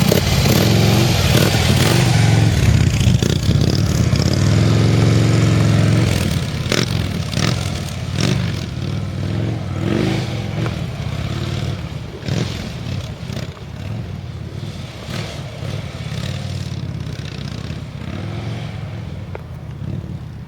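A motorcycle swerving around a left-turning vehicle: a loud, steady engine drone with rushing wind noise, rising and easing slightly as the rider maneuvers, no voices.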